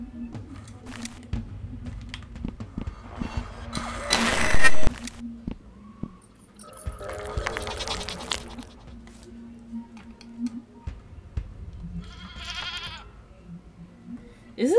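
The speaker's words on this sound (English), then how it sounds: "What in the hell was that? A ghost goat, apparently." A ghost goat in the SallyFace video game bleats in loud, wavering bursts over a low eerie hum, with keyboard clatter and brief speech mixed in across the stretch.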